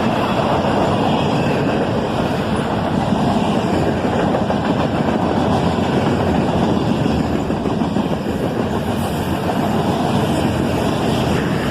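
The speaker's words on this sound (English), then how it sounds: "This guy was definitely running track speed with the highball here, and he has more locomotives running distributed power." A CSX freight train hauling flat cars with distributed-power locomotives rushes past at track speed, a loud, continuous roar of wheels and rattling wagons that stays close throughout.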